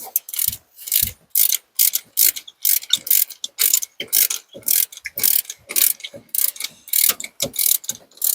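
Rapid clicking of a socket wrench ratchet on a bolt of an old Ford truck left sitting for ten years, crisp close-up bursts of ratcheting in short regular strokes with tiny gaps between them.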